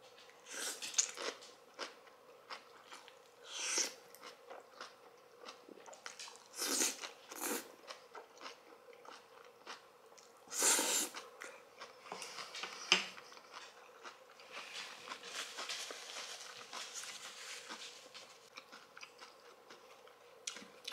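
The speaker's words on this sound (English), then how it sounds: "I could literally eat this kimchi every day." Someone eats kimchi with black bean noodles, producing quiet, close crunching and wet chewing bursts at irregular intervals, with occasional soft clinks of utensils in between.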